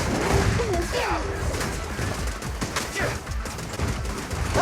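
Gunfire in the video game Zenless Zone Zero comes as rapid bursts of shots mixed with game effects and character voices, loud and dense throughout.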